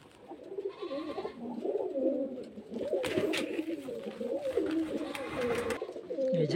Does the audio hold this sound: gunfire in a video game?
no